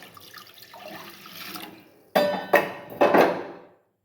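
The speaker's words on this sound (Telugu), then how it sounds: "నెక్స్ట్ ఈ గ్లాస్తో 6 గ్లాసెస్ ఆఫ్ వాటర్ వేస్తున్నానండి." Water from a glass is poured onto washed moong dal and rice in a cooker, three short splashing pours after a faint rustle, close and moderately loud, with no talking.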